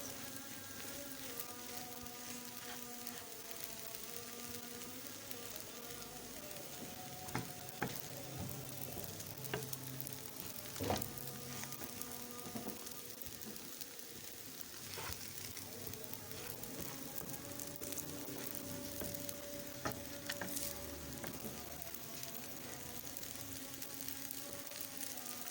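Bread fries in a pan until browned, a faint, continuous sizzle with occasional soft stirring scrapes and clicks, sitting low beneath quiet background music.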